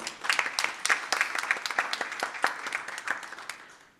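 A small group at a school board meeting claps, with distinct individual hand strikes audible in an uneven, moderately close patter that thins out and fades over a few seconds.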